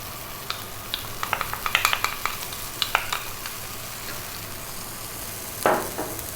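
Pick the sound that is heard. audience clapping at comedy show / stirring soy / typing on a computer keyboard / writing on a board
stirring soy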